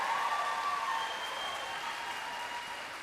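Applause from a crowd honoring graduating high school seniors at a graduation ceremony in an arena, with steady clapping and cheering that is moderately distant and slowly fades.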